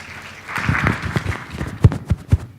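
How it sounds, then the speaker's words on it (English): Audience applause for a speaker being introduced at a market research conference in Brazil, a burst of scattered clapping that builds and then thins into a few sharp individual claps. "please give an applause for him"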